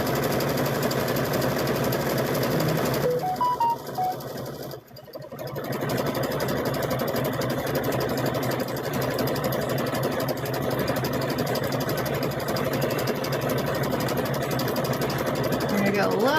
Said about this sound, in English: We'll find an embroidery that's just on the machine, and we'll do an embroidery on here.